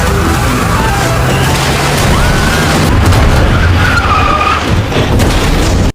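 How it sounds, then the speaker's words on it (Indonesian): A car speeds past at high speed in an anime scene, with a loud, continuous rush of engine and tire skidding that builds steadily across the whole stretch and carries no talk. "dia mendapati sebuah mobil melaju dengan kecepatan tinggi"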